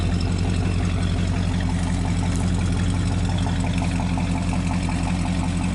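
A 1965 Chevrolet started for the first time in years idles in a steady, close, even rumble with a regular low pulse throughout.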